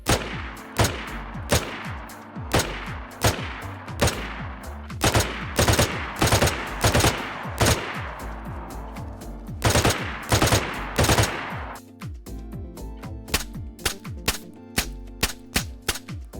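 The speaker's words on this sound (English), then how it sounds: "The M16A2 rifle has been added, burst fire mode has been added" Repeated bursts of M16A2 rifle fire in a video game, tight clusters of sharp loud shots in steady succession across the whole stretch, with brief gaps between bursts and no talk.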